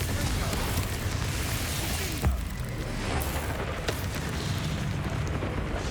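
The Confringo blasting spell explodes during Hogwarts Legacy combat, a rumbling burst with one sharp crack in the middle over dense, continuous battle noise.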